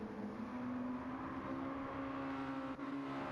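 A race car's engine hums steadily in second gear at Monza in a club racing round, a faint continuous drone with a sustained tone that holds nearly constant throughout, no talking heard.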